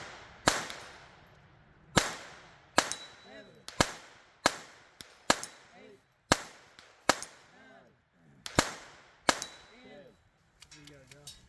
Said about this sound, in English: What, it takes 50 rounds to hit that, Josh?